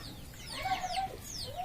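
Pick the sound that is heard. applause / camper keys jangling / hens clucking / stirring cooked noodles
hens clucking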